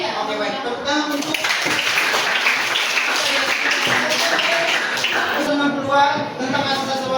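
Students in a classroom applaud at the teacher's prompt. The clapping is mixed and continuous, with voices talking through it the whole time.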